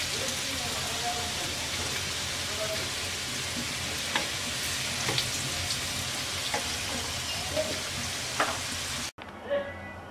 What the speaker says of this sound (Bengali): আলু ভাজা হয়ে গেছে, তুলে নিচ্ছি।